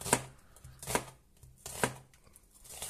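A knife cutting vegetables into julienne strips on a board, with three or four sharp, evenly spaced chops that sound close and fairly quiet, and no talking.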